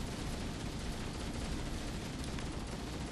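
Dense, continuous gunfire from a crowd of enemies in the Halo video game, a loud, steady barrage of overlapping shots with no talking.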